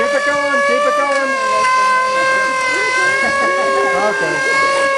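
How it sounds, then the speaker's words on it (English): A loud, sustained World War II air raid siren from Chicago wails with steady harmonic tones that drift slightly in pitch, with a voice talking faintly underneath. "This is a World War II air raid siren from Chicago."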